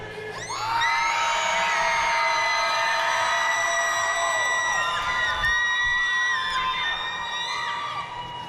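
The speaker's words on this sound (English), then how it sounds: "if you're cheering for the Blue Alliance, I want to hear you as loud as you guys can" A crowd at a FIRST Robotics alliance bracket match in Rochester, NY yells and cheers for the Blue Alliance, a loud sustained roar of high whoops and screams that swells quickly, holds for several seconds, then thins out.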